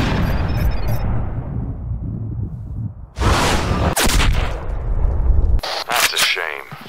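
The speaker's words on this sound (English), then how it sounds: "Sloppy shooting." Rifle shots ring out in the hunting game Cabela's Big Game Hunter Pro Hunts 2014, loud sharp bursts with rumbling echo, separated by stretches of quieter ambience, and someone talks over parts of it.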